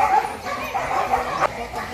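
A K9 police dog barks and yips in quick repeated bursts nearby, fairly loud, with some faint voices mixed in.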